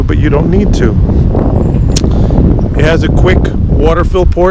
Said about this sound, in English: Sorry about the wind, it's windy here.